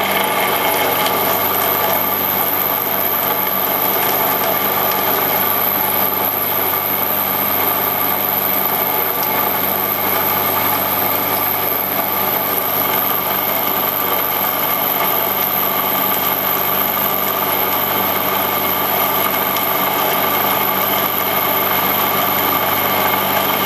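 A Hurco KMB-1M vertical mill about 25 years old cutting metal without coolant, giving a steady, loud, continuous mechanical drone with a constant high whine and no talk.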